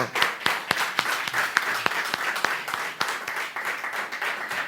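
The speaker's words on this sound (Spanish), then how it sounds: "¿Por qué no le da un aplauso al Señor?" A church congregation applauds during a Spanish-language Sunday sermon, a dense, steady wash of many hands clapping with a few sharper individual claps standing out, fairly close and continuous throughout.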